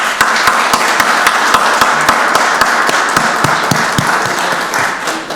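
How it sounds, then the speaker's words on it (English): Applause at a Rockdale County Board of Commissioners meeting, a close, loud round of clapping with distinct individual hand claps standing out over the crowd, easing slightly toward the end. "Let's give this team a round of applause."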